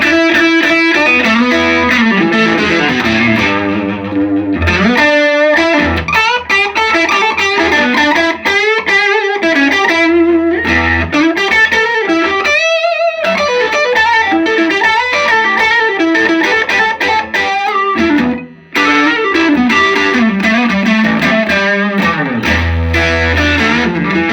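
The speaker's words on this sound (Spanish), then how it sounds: "Vamos a probar la saturación que tiene el amplificador." A saturated electric guitar plays through a small ElAtreides 3W amp, strummed chords and riffs with a thick, overdriven tone and chorus-like shimmer, loud and continuous with brief gaps.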